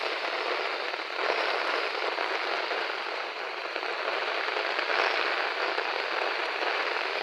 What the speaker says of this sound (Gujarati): બહુ પાણી ભાઈ જોરદાર જોરદાર વરસાદ